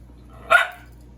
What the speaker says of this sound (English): Waffles, why are you barking?